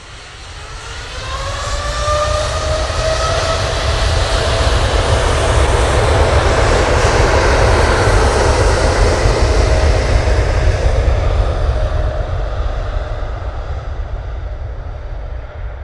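A Boeing 787 Dreamliner's jet engines at an airport make a loud, sustained roar that swells over a few seconds, holds steady, then eases slightly, with a rising whine early on.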